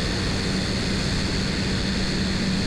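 Seaplane engine and propeller droning steadily during descent over Minocqua, Wisconsin, a loud, continuous low rumble with broadband wind-like roar, constant throughout with no talk.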